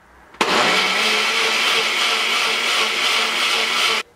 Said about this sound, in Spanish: En este momento vamos a empezar a licuar lo que es recado.